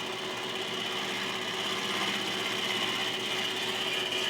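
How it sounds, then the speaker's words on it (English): An end mill flattens a surface on a part for a Precision Matthews PM-1228 lathe, giving a steady, close, whirring machining buzz with a high metallic hum that runs unbroken throughout. "I'm just going to go ahead and touch this up with this end mill here."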